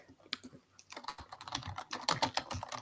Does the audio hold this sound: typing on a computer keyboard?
yes